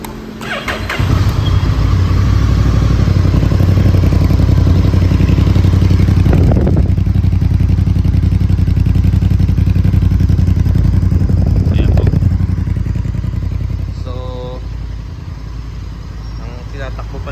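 A blue Honda Nighthawk 1100 motorcycle engine runs steadily and loudly up close for most of the stretch, a deep continuous rumble that eases somewhat near the end, with brief clattery bursts along the way.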